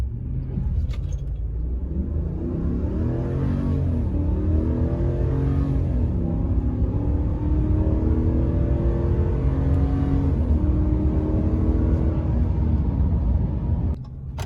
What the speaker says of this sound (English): I'll do a little rolling acceleration here so you can see. Do a little launch here.